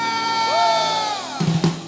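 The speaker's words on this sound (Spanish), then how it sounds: "Los agradecidos den un grito de victoria." A church congregation at an evangelistic Sunday service shouts out together in one loud, sustained cry with whoops, followed by a few scattered claps and knocks.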